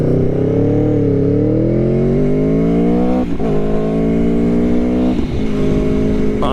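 A 2018 Aprilia Tuono Factory motorcycle accelerates hard from a green light, its engine note climbing steadily through the gears with brief dips at each shift, loud and close throughout.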